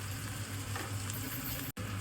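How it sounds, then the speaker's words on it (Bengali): Potatoes frying in a pan for homemade egg chowmein, a short burst of steady, faint sizzling with a brief dropout near the end. "আলুটা একটু ফ্রাই করে নিচ্ছি।"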